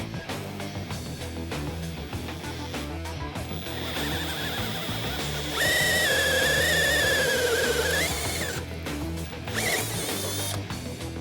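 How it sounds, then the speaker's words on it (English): A Panasonic drill driver with a 25mm Sutton auger bit bores into ten-year-old hardwood, whirring steadily with grinding, ratcheting mechanical texture, rising to a louder, higher-pitched strain midway before easing off near the end. "we're going to be using Panasonic's drill driver with this Sutton 25mm auger bit, drilling into this piece of hardwood"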